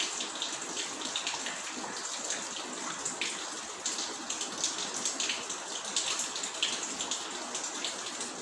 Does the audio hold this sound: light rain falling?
yes